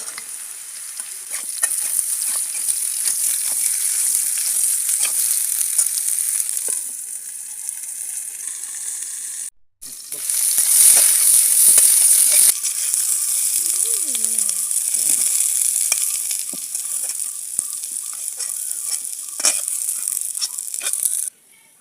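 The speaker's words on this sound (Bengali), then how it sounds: "বন্ধুরা, আলু একটু ভাজা ভাজা হয়ে এসেছে, আমি এখন দিয়ে দেবো পটল। পটলও এর সাথে ভেজে নেব।" Potatoes and pointed gourd fry in oil in a pan, giving a steady close sizzle with stirring scrapes and clatters, briefly dropping out before a louder burst of frying.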